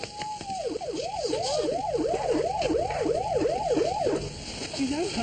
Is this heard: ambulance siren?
yes